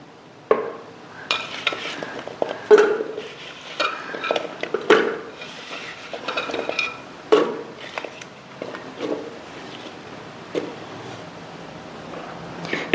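Chopped breadfruit is scooped into a pressure cooker with scattered clatters and scrapes of metal utensils, sporadic and fairly quiet against a faint room hiss.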